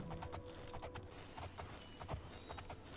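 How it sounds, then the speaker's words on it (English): Horse hooves clip-clop steadily through a fantasy video game ride toward a village, a continuous rhythmic trot of repeated hoof strikes at moderate loudness with no talking. "let's get on the horse and ride down there quick."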